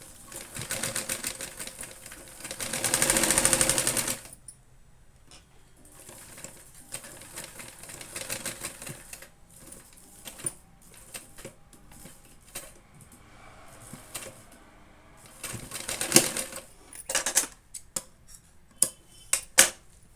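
A sewing machine stitches a small hand purse in several bursts of rapid mechanical whirring, separated by quieter pauses and brief clicks of handling.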